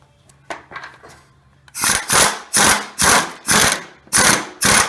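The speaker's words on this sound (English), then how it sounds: "Now you put your bolts on." A hand ratchet tightens bolts onto a mini bike axle during a tire change: a few faint clicks come first, then six loud, evenly spaced ratcheting strokes close to the listener.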